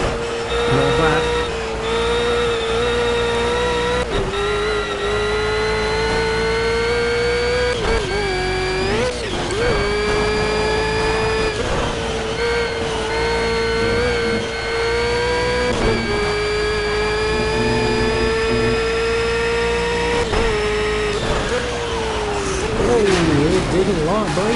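Lotus 72D Formula 1 car in a racing video game at the Nordschleife, its engine holding a steady loud drone with brief dips and swells as it shifts and brakes through the lap, while someone talks over it.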